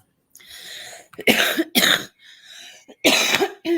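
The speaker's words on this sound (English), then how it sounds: "I hate to cough in the mic." Several harsh coughs close to the mic, a pair of strong bursts midway and another near the end, with quieter throaty breathing between them.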